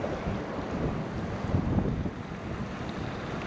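Steady wind rushes outdoors at a fishing spot for bluegill, producing a broad, even roar with gusty swells and some microphone buffeting and no voices.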